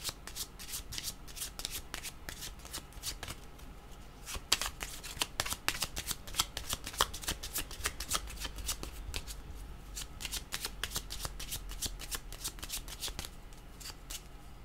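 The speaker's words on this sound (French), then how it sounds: "J'avais les yeux fermés pendant que je mélangeais les cartes" A deck of playing cards shuffled continuously during a card reading, with rapid crisp riffling and flicking bursts close up, steady throughout and no talk over it.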